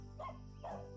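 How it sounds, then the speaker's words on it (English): A dog gives two soft, muffled barks or yips in quick succession over a low steady hum, sounding distant and faint. "Dog."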